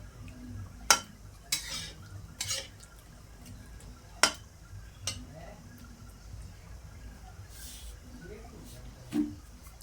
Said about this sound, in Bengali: দু মিনিটের মতো এভাবে নাড়তে থাকবো